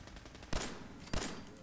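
Two sharp pistol shots fired in Fallout 4, spaced about half a second apart, each a loud broadband crack with a short decaying tail over a low rumbling game background.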